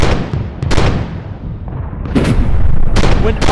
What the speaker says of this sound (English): 100 guns from the Federal line opened upon us.